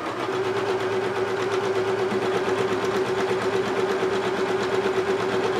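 An Elna Lotus sewing machine stitches an automatic buttonhole through fabric, a steady rapid mechanical whirr with fast even needle clatter running unbroken from start to finish.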